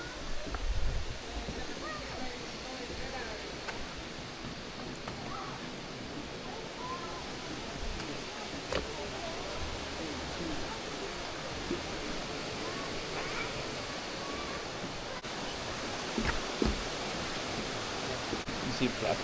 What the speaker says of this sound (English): This is the creek now.